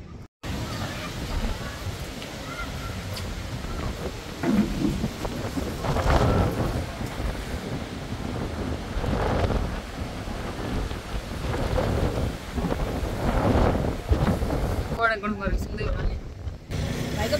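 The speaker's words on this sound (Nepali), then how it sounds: "यहाँनिर यस्तो डेन्जर हावा चल्दैछ नि पुरै हिजोको हुरी जस्तै गरेर" Strong gusty wind blows at Lakeside, roaring against the microphone in surging waves throughout, with people talking underneath and children playing nearby.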